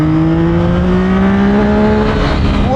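A 2024 Yamaha motorcycle, either an MT-09 or an XSR900 GP, accelerates hard, its engine note rising steadily in pitch, loud and close, with wind rush and no talk.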